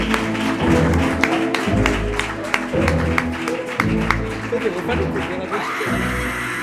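An audience claps in a sustained burst of applause during a Halloween special studio show, steady dense clapping over a background of music and occasional voices.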